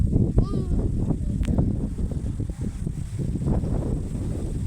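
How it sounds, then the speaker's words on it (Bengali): A cool gust blows on a hot day as a hailstorm threatens, roaring and buffeting close against the microphone in uneven surges. "কি সুন্দর ঠান্ডা, মানে শীতকালের মতো ঠান্ডা হাওয়া দিচ্ছে"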